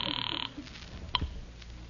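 A telephone rings once with a bright, electronic-sounding trill that is clear and close, then cuts off into low background hiss, with a faint click afterward.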